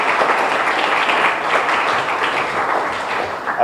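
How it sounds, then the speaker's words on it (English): At the opening ceremony of a player ID combine, an audience applauds the foundation. The clapping is loud and dense, holds steady for a few seconds and tapers off slightly at the end. "let's give the Calvin Air Foundation another round of applause"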